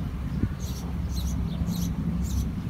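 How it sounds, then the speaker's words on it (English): Birds call outdoors in four evenly spaced short chirping bursts over a steady low rumble of background noise. "beautiful sounds of birds and an owl"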